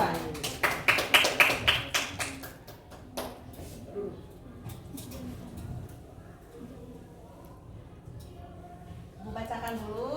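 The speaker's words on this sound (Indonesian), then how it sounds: "tepuk tangan buat Revan dan kawan-kawan" A classroom group applauding Revan and his group after a history presentation: a short burst of hand clapping at the start, fading out as a teacher's voice continues over quiet room noise.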